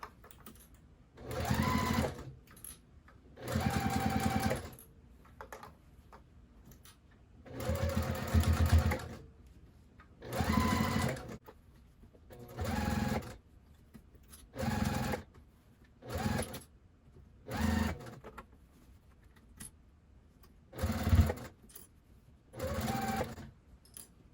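A sewing machine stitches the seam of a small scrap-fabric bin in repeated bursts of about a second or two, separated by short pauses, finishing with a back stitch at the starting thread. It is close, steady and alone.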